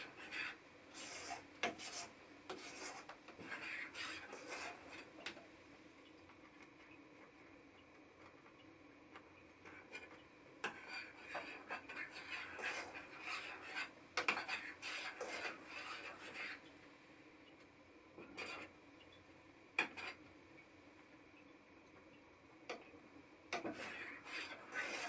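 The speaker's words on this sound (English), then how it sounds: "No time to stop stirring now." A spoon scrapes and rubs around a pot of bubbling pudding in an off-grid log cabin, producing quiet, irregular stirring strokes and soft taps that come in bursts with brief pauses between them.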